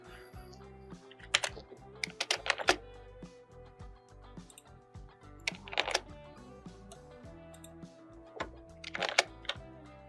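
Bursts of quick computer keyboard typing while a formula is entered into a spreadsheet, ending in separate key presses for Enter, close and fairly quiet with steady background hum.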